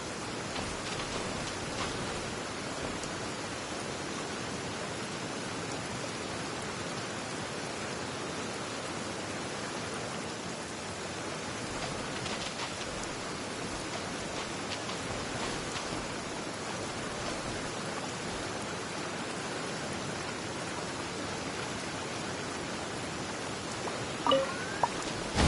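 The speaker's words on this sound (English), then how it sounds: "Quite a downpour." Heavy rain pours steadily in the Genshin Impact video game, a dense, even hiss of a downpour that runs unbroken and fairly loud throughout, with no voices over it.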